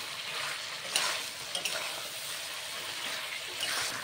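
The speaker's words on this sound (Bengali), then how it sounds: "এরপর যে ভাজা ফুলকপিগুলো রেখেছিলাম এর মধ্যে আমি মিশিয়ে ভালো করে আবারও একটু আমি কষিয়ে নেব" Fried cauliflower and chicken being sautéed together in a pan for a village-style Bengali curry, a moderate, steady hiss with occasional scraping stirs, close and without speech.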